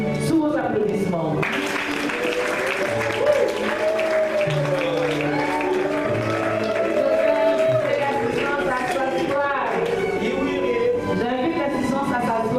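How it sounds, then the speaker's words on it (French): Applause at a wedding ceremony, with a crowd clapping steadily beneath an officiant who keeps talking over it throughout. "sous vos applaudissements"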